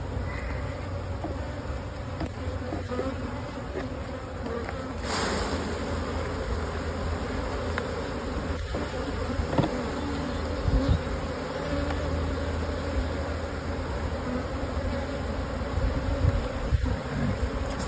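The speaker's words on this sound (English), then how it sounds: "starting to be a slightly higher pitch buzz." Honey bees in a double nuc hive being worked with smoke hum steadily close by, a dense, continuous buzz with a slightly raised pitch and occasional louder passes, with no speech.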